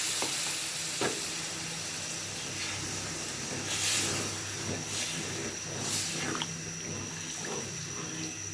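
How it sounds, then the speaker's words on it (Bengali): Katla fish dopiaza masala sizzles and hisses steadily in a pan as a little water goes in, with occasional stirring scrapes and steamy bursts, close and fairly loud throughout, no talking. "কষানো হয়ে গেছে এখন একটু জল দিয়ে দিই"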